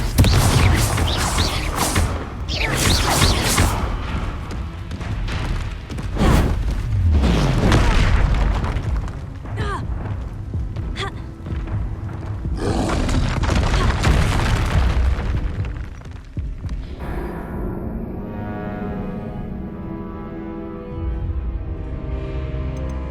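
Confringo blasting spells explode in Hogwarts Legacy, a run of loud, close booms and bursts with whooshes layered over continuous game sound, ending in a lower rumbling tail.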